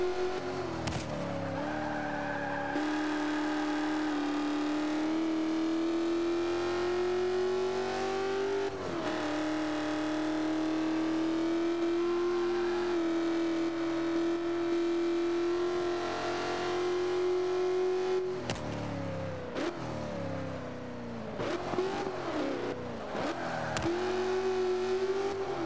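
Racing video game car drifting, its engine holding a steady, loud drone broken by a few sharp shifts and pitch dips, with tire squeal and skids layered over it and no voices.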